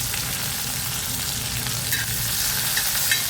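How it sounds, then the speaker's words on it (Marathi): Chilli, garlic, tomato and cumin sautéing in hot oil, a dense continuous sizzle with occasional spatula scrapes near the end, close and fairly loud, with no talking. "तेलावर 2 मिनिटं परतून घेऊया."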